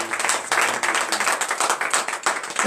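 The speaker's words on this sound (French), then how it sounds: "Donnez encore l'acclamation" A church congregation at a morning prayer service in Benin gives a short burst of applause, a few seconds of uneven clapping from many hands.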